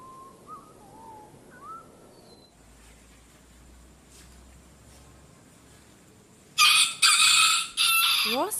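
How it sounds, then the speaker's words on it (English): A rooster crows in a few loud, close, harsh bursts near the end, after a quieter stretch with faint chirps. "rooster,"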